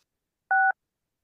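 One clean keypad tone, about a quarter second long, sounds as a menu number is pressed on a customer-service phone line, with silence before and after.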